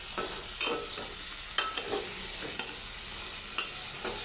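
Vegetables with sidol and pangas fish sautéing in a pan, potato, pointed gourd and tomato among them, steady close sizzle broken by regular scraping strokes of a spatula, no talk.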